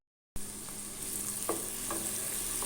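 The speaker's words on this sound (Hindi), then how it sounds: "इसमें मैं अभी डाल दूंगी ग्रेट की हुई प्याज" Grated onion hitting hot oil in a pot, a steady close sizzle and frying hiss throughout, with a few faint utensil taps.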